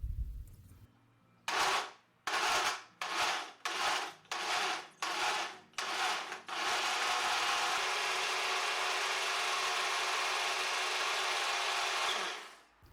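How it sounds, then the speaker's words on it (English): Smoothie maker blending a ginger shot: several short, loud whirring pulses in a row, then one long continuous blend of about six seconds that stops abruptly, heard close and alone. "put that all into a smoothie maker and to mix it up"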